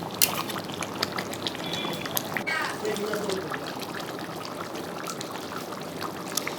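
Water pours into a pot of simmering Bengali chicken curry (murgir mangsher jhol) in a steady, close trickle lasting several seconds, with faint clinks.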